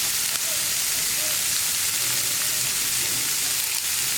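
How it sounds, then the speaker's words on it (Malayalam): Curry leaves dropped into hot oil in a pan with turmeric for a Kerala cheera payar mezhukkupuratti stir-fry, giving a loud, continuous, dense sizzle and crackle close by. "ഇനി ഇത് നന്നായിട്ടൊന്ന് ഇളക്കി മിക്സ് ചെയ്തതിന് ശേഷം നമുക്കിതിലേക്ക് കറിവേപ്പില ചേർക്കാം."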